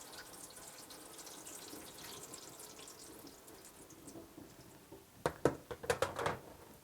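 Water running and splashing in a kitchen sink as soaked rice noodles are drained, a steady low wash that ends in a few louder splashes and gurgles near the end, with no talk.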